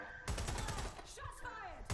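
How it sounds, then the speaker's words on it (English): A rapid volley of gunshots cracks out in Watch Dogs: Legion, a dense burst of close, sharp reports over about a second followed by ringing and whooshing effects. "Shots fired."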